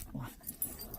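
A dog gives a short, close vocal burst, more a low growl or whimper than a full bark, heard alone.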